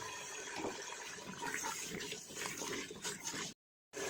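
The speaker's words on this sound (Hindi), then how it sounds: "अब इसमें 2 गिलास पानी ये स्टील वाले ये शामिल कर देते हैं।" Two steel glasses of water are poured into a pan of frying taro and tomato curry, a steady close splashing rush that stops abruptly near the end.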